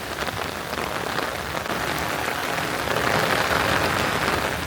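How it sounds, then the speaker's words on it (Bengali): Heavy rain pours steadily over a mango orchard after a storm, a dense, continuous close wash of drops that swells slightly louder toward the end. "তো যাই বৃষ্টিতে এভাবে ভিজা ঠিক হইতেছে না"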